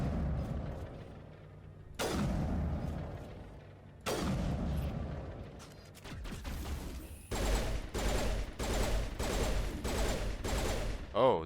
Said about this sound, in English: Oh, this pistol's burst.